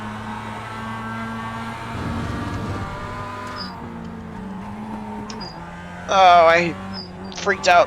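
Mazda MX-5 Cup car engine in iRacing at Lime Rock Park, a steady harmonic drone that shifts pitch through a downshift, with someone talking over it toward the end.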